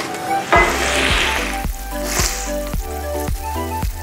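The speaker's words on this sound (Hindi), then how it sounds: "चिकन को धीमी आंच पे हल्का हल्का फ्राई कर लेंगे 5 से 7 मिनट के लिए" Chicken sizzles and crackles in sunflower oil in a frying pan over low heat, a loud continuous frying hiss with repeated stirring scrapes and clunks from a utensil against the pan.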